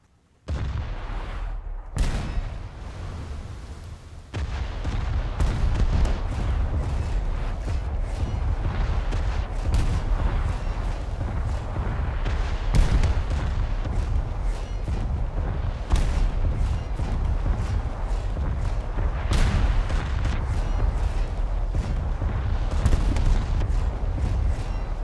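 Naval ship guns in War Thunder fire in heavy, booming salvos, one after another over a constant rumbling roar, with no talking.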